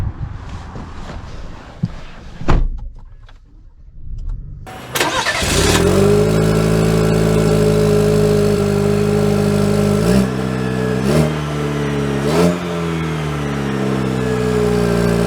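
2024 Chevy Silverado Custom pickup truck starting up and pulling away, its engine settling into a loud, steady hum with several rises and shifts in pitch as it accelerates, heard from inside the cab.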